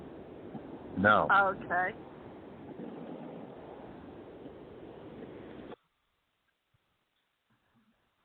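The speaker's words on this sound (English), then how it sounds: "I heard the ocean." Ocean surf comes through a Skype call as a steady wash of noise, with a brief voice speaking over it early on, before the connection cuts to silence.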